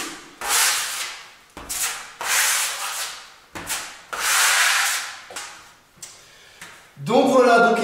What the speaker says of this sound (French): cet enduit-là, il est facile à poncer